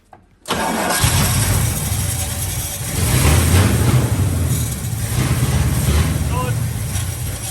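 A 1972 Chevy short box 4x4 truck engine, run for the first time after 20 years, fires and catches abruptly, then runs loud and rough with an uneven idle that surges.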